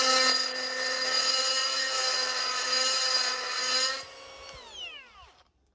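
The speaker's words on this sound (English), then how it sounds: "In seconds of grinding, you can see some of these teeth are getting galled up with aluminum" A power tool grinds into sacrificial aluminum pipe with a loud, steady high-pitched whine that holds for about four seconds, then drops off as the tool spins down and fades to quiet.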